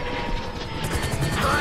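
Helicopter rotor chop in a GTA V heist mission, a steady rhythmic beating mixed with mechanical clatter and gunfire-like impacts, fairly loud and continuous throughout.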